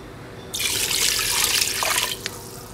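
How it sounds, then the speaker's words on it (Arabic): Water gushes steadily from a tap into a pot for meat soup, loud and close, starting abruptly and running for a couple of seconds before the flow shifts slightly near the end. "الآن نضيف الموية"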